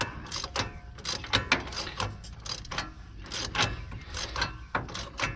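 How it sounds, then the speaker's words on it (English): A ratchet snugs a nut on the turbocharger of a 2007 Freightliner Columbia truck, a close run of rapid clicking bursts in an irregular rhythm, loud and alone with no talk. "So right now I'm tightening up the bottom right hand nut."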